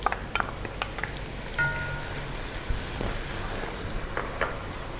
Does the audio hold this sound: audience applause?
no